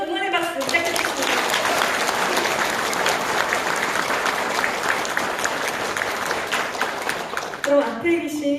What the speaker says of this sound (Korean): 용기 있는 청년 지역 선대위원장님들께 뜨거운 응원의 박수 부탁드리겠습니다